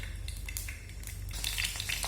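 Green chillies frying in hot mustard oil, a steady close sizzle with faint crackles that grows brighter and busier toward the end.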